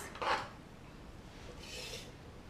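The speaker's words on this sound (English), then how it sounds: "I'm going to go ahead and make a score here where I'm going to attach this." A tool scores paper for a mini-book, making a short soft scraping rub near the start and a fainter, longer drag later, quiet and close with no talking.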